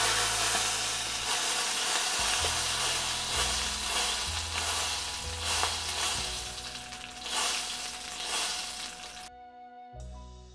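Koi fish fried in a pan of oil, loud continuous sizzling and crackle with low rhythmic humming underneath as the pieces are lifted out, cutting off sharply near the end.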